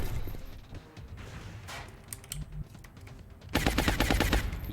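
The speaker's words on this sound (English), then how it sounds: "Taking suppression fire." Suppression fire from a gun in the tactical game XCOM: Long War rings out as loud, rapid automatic bursts. A brief rattle comes first, then a sustained, dense stream of shots closes the clip over a busy game soundscape.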